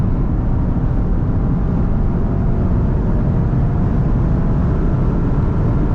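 A 2023 Porsche Panamera GTS pulls hard at full throttle on the Autobahn, giving a steady, dense roar of engine and wind from inside the cabin that holds loud and unbroken throughout.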